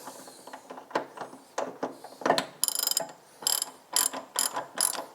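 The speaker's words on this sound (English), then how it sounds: "Locking down the front nut of the cross member is now so easy." Ratchet wrench clicking in quick bursts while tightening the front nut of the cross member on an MGB during a rack and pinion steering conversion, close and loud with short pauses between strokes.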